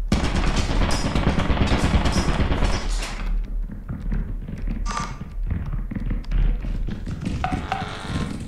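Turrets firing in the video game Lethal Company: a loud, dense automatic burst of rapid gunfire for about three seconds, then quieter scattered thumps and game noise.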